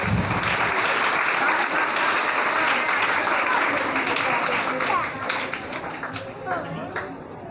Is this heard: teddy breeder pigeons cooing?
no